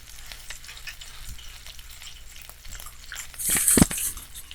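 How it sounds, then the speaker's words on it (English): Salmon patties fry in a pan with a soft, steady sizzle and a few light clicks, then a louder crackle and clatter near the end. "I'm going to let these last 3 fry up."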